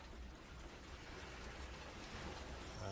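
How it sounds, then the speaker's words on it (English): Heavy, fat raindrops fall steadily in the dark at about three in the morning during a bike-packing trip from Kyoto to Kyushu, a dense even patter that stays constant and grows slightly louder toward the end. "Can you hear the sound of the rain?"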